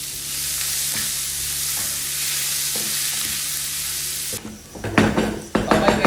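Garlic and onion sizzle steadily as they are sautéed in a hot pan for a Filipino tokwa and hotdog dish, a continuous frying hiss that gives way near the end to louder stirring and clattering of a utensil against the pan.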